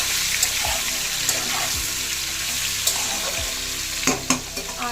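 Ridge gourd, eggplant and plantain fry in a little oil for Bengali shukto, giving a steady close sizzle with a few stirring scrapes and clinks throughout; no one speaks.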